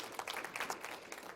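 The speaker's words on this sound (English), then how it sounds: "just give a quick round of applause to the folks that are manning the table" An audience at an indoor meeting claps in a brief, steady round of applause of modest size, heard at a slight distance.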